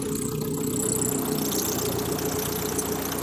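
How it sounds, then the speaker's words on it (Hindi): CRDI diesel engine on a fault simulator rig idling evenly up close, a constant knocking drone throughout with no talk. "अभी हम लोग इंजन स्टार्ट करेंगे"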